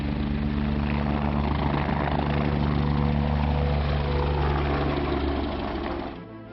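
The Himachal Pradesh chief minister's helicopter roars loud and close with a steady rotor and engine drone that holds level, then drops away near the end as it lands.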